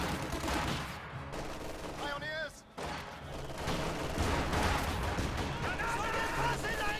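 Rapid bursts of gunfire and a rifle grenade blast in a strategy video game, crackling volleys overlapping under a voice, with a brief lull midway before dense firing resumes.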